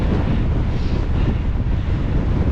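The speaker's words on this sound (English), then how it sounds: "These gusts of wind are," Strong gusts of wind rush past a cyclist riding a commuter bike, making a loud continuous roar that buffets close against the microphone.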